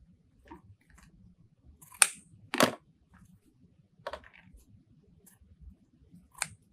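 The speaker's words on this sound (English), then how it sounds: "So we can cut us about a 14-inch strip." Scissors snip a 14-inch strip of wreath material for a purple freesia floral wreath, a few sharp close cutting clicks spaced apart in a quiet room.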